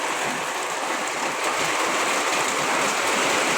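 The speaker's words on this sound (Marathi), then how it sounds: "भरपूर पाऊस आहे बघा" Heavy rain pours outside during an evening downpour, a dense, loud, unbroken hiss that holds steady throughout with no other sounds standing out.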